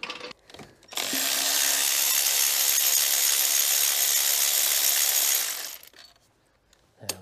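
A power tool spins out the last gearbox bolt on a Peugeot 306 HDi during a clutch change, a loud steady whirring burst of about five seconds framed by short metallic clicks.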